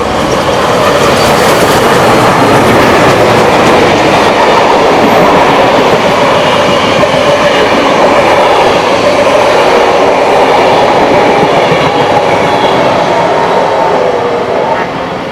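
Heritage locomotives 3265 and 3642 roll through East Hills station in New South Wales, a loud, close, continuous rush of wheels and rail clatter that fills the whole stretch with no voices.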